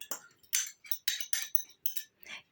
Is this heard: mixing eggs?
yes